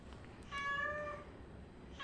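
A house cat gives one clear, close meow in a quiet room, followed by the start of another brief call.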